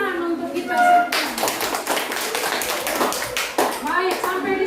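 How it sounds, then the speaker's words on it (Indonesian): A classroom group bursts into hand-clapping applause that fills most of the moment, dense and fairly close, with a teacher's voice heard just before it starts and again as it fades. "Tepuk tangan untuk kita semua."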